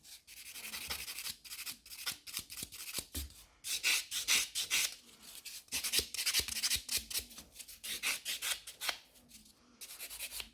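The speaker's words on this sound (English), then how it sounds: "So I will take a buffer, and the buffer is 100 grit. And just buff the surface of this nail." A 100 grit buffer rubbing over the surface of an acrylic nail, close rhythmic back-and-forth scratchy strokes in quick bursts with brief pauses.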